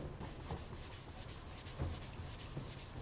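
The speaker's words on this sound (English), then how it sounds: "I can tell the pad is taking off some of the oxidation and the yellowing or yellowness." A sanding pad rubs wet across an oxidized, yellowed plastic headlight lens in steady back-and-forth strokes, a close, continuous gritty scrubbing with a few heavier passes standing out.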